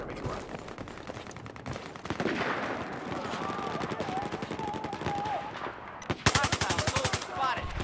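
Enemy machine-gun fire in Battlefield 4 rattles in long, dense bursts almost without pause, loud and close, with a sharper, harder burst near the end and other battlefield noise mixed in.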